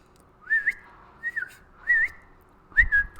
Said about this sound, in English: Does she respond to whistles if I whistled right now?